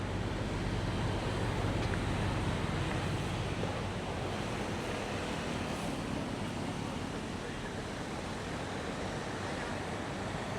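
Constant roar of big ocean surf on Da Nang Beach, Vietnam, with heavy wind buffeting the microphone, a dense, unbroken rush of noise.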